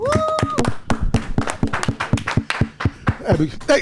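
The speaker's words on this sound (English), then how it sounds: "Clap it up for both of them." A small live-show audience claps in a loose, fairly even rhythm of distinct, sharp hand claps, with a voice briefly heard at the start.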